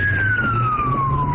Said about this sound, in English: The sound of the police siren was recorded by a Paradise police officer racing to the house.